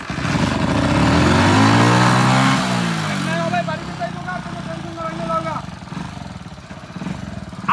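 A motorbike that had failed to start after several kicks catches and revs loudly up close, the engine note rising and falling before settling into a rougher idle, with voices talking over it.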